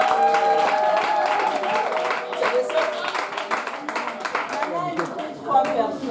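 A church community gathering during a spring-break activity week breaks into lively clapping and crowd applause, loud and sustained, with music and voices mixed in throughout.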